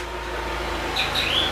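A few short bird chirps ring out faintly over a steady indoor hum in the last half second, brief high calls that come in and out.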